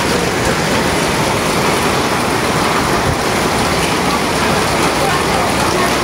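Steady heavy rain pours down during a flood around a house, a loud, continuous wash of drops hitting surfaces with no breaks.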